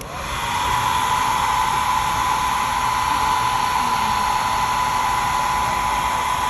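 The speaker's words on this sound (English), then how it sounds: "I use the Ideal Seam Guide, official Ideal Seam Guide drying tool by Conair" Conair drying tool set to turbo power, blowing on a sewing seam guide: a loud, steady high-pitched whine with rushing air that starts quickly and holds constant, close by, with nobody speaking.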